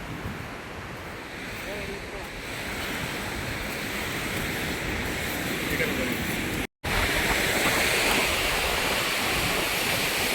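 Water rushes from the Yagachi dam gates, opened about six feet, in a dense, constant roar with wind buffeting the microphone; a brief dropout breaks it once before it resumes just as loud.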